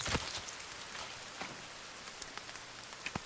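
Rain falling in the survival video game The Forest, a soft steady hiss of drops on surfaces with a few sharper taps near the end, heard alone with no talking.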